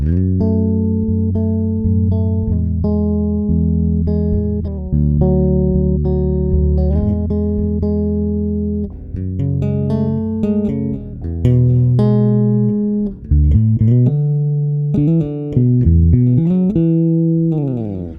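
Deep, sustained chords on a Warwick bass guitar ring out one after another, thick and resonant, with no voices, steady and loud throughout.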